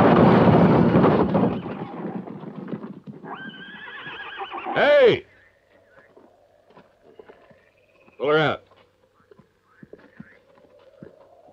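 A horse whinnies loudly nearby, then a second shorter neigh follows after a pause, with hoof clatter and wind around, and voices talking at the start, in a western film scene.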